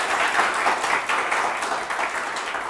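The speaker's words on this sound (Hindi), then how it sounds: "अनीता के लिए एक बार और ताड़ियों की गड़गड़ाहट" Audience applause for Anita, a judicial exam success-story student, filling the room with steady, dense clapping that holds at an even loudness from start to finish with no voices over it.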